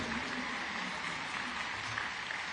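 Loud, sustained applause from a large crowd at a public ceremony in Raigad, Maharashtra, held as a steady dense roar of clapping with no talk over it.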